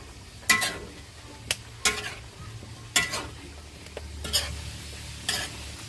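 A spoon stirs Ilocano-style mixed vegetables with squash in a pot, giving sharp intermittent scrapes and clinks over a low sizzling simmer, close and without talk.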